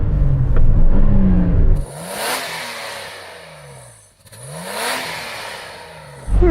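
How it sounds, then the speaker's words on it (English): A standard Nissan Patrol engine revs up loudly close by, falls back to idle, then revs again in two rising sweeps before a final burst, with no talking. "would you mind just revving up that standard Nissan Patrol"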